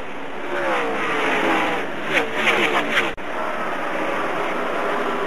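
NASCAR race cars roar past at Homestead during the 2002 Ford 400, a loud engine drone with rising and falling passes, a burst of several cars near the middle and a brief dropout.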